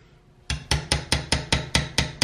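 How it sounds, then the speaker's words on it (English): Silence, then a hammer taps a nail set into metal about ten times in a quick, even rhythm, each strike sharp and close, marking a drill point while fretting a 6-string bass guitar. "I'm just going to tap that in with a hammer"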